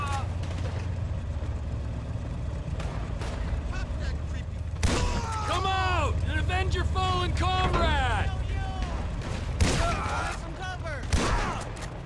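A tank is blown up in Grand Theft Auto V, with loud gunfire and explosion bursts, then metallic debris and screeching wreckage sounds ringing out amid continuous game noise while someone talks intermittently.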